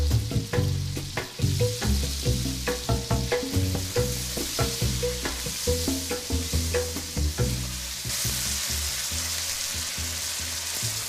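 Beef with fresh bay leaves and thyme frying in a pan, giving a steady loud sizzle with repeated clinks and stirring knocks through most of it, then easing into plain hissing near the end.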